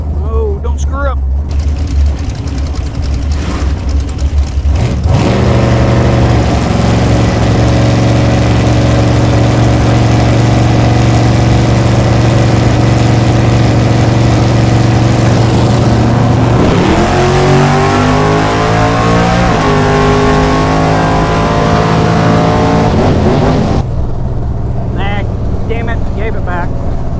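A drag race car's engine idles loudly, then roars and revs up hard as it launches and accelerates down the track, pitch climbing through gear changes before settling, with talk heard near the start and end.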